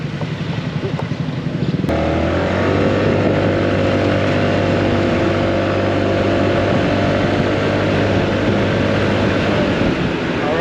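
Honda Forza 350 scooter accelerating hard, with a loud, steady engine drone and heavy wind rush that rises after a brief quieter start and holds for several seconds.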